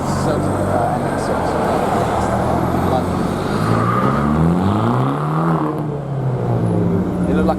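Modified Mazda RX-7 (RX-7/MX-6 style build) at a car meet, its engine droning steadily and loud with rising and falling revs over crowd noise, voices murmuring beneath.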